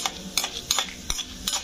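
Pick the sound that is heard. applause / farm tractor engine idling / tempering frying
tempering frying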